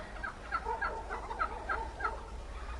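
Turkeys gobble and chatter in repeated short bursts, a flock fairly close by with a low background rumble.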